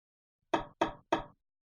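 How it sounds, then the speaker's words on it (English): Three firm knocks on a wooden door, evenly spaced, close and clear, followed by silence. "She knocked at another door."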